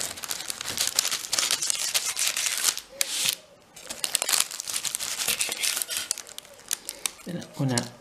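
A chocolate and banana puff pastry crown is cut, giving crisp, flaky crackling and crunching that runs nearly continuously, loud and close, with a brief pause partway through.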